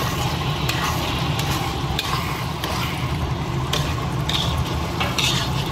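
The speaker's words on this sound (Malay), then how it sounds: "Contoh saya kacau dulu." A spoon stirs carbonara popia filling made from canned carbonara sauce in a pan, giving repeated close scraping strokes and clicks over a continuous soft sizzle.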